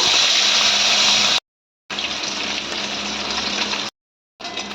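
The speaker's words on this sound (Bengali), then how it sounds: "এবার ওই তেলের মধ্যে আমি মাছগুলো ভেজে নেব" Fish frying in hot oil in a wok, a loud, steady sizzle that breaks off twice into brief silence before resuming.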